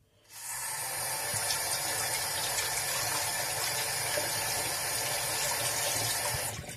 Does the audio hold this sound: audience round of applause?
no